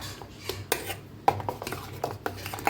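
A spoon stirring dahi mattha, spiced buttermilk with salt and cumin powder, in a steel vessel, giving a quick irregular series of close metallic clinks and scrapes with no talk.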